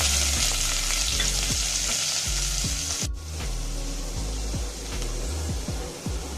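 Green chillies, curry leaves and onion sizzle steadily in hot oil for rice khichdi, with a brief dip mid-way and a spoon scraping the pan in a regular rhythm throughout; close and fairly loud, no talking.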